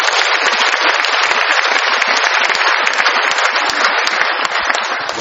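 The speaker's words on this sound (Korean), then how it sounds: "박수하겠습니다." Church congregation applauding as the pastor comes forward, loud dense clapping sustained for several seconds and easing slightly at the end.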